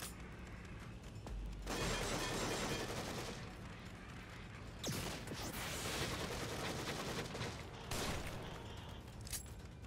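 Rapid enemy gunfire in the video game The Evil Within crackles in several bursts, dense automatic fire interleaved with sharp impacts and booms, fairly quiet overall with no talk.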